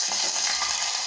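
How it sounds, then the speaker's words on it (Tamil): Ginger garlic paste sautéing with spices in a hot pan for a cabbage kootu gives a steady, dense sizzle and crackle, close and fairly loud, with no one talking. "இப்போ இஞ்சி பூண்டு நல்லா வதங்கிடுச்சுங்க"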